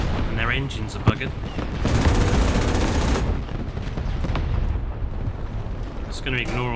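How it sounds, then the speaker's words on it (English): Explosions and gunfire boom in the tank game War Thunder, a dense rumbling barrage with one sharp burst, while someone talks over much of it. "Just going to ignore all the explosions going around me."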